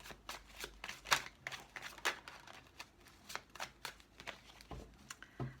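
Tarot cards shuffled and drawn, a soft sequence of quick papery riffles and flicks in uneven bursts, close and quiet.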